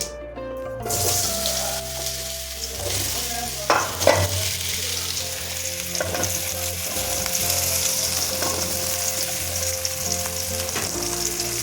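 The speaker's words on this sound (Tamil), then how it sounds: "இப்போ கட் பண்ணி வச்சுருக்க உருளைக்கிழங்கெல்லாம் அதில் போட்டுறேன்" Cut potatoes drop into hot oil with a couple of clunks, then fry in a loud, continuous close-up sizzle, with occasional stirring.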